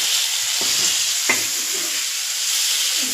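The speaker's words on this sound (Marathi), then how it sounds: "तुम्ही बघू शकता आपल्या वड्या ह्या पद्धतीने फ्राय करायच्या." Potato masala vadi fry on a hot griddle with a steady, close sizzle, broken by a few soft scraping taps as they are turned; no one speaks.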